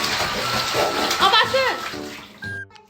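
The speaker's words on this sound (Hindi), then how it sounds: "ये कैसे पानी आता है।" Water gushes into a bathtub where a small child is being bathed, a steady running-water wash with splashing, heard under a voice and adult chatter.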